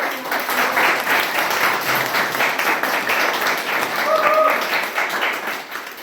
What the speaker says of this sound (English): Can we have a huge round of applause for